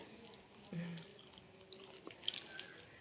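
Crunchy rava vada made from leftover upma with onion being bitten and chewed: a few faint, close crisp crunches and squishy chews against a soft background hiss.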